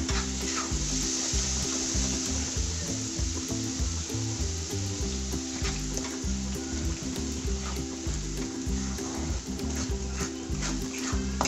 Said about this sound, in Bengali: এবার আমি এর মধ্যে একটু জল অ্যাড করে দেবো যাতে মশলাটা পুড়ে না যায়।